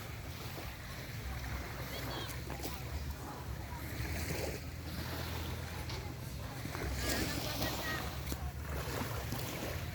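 A speedboat runs on the sea off Dumaguete, its steady engine drone mixed with wind and water rush, fairly loud and continuous, with faint voices under it.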